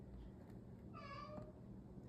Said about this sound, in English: Sorry, that's my cat back there.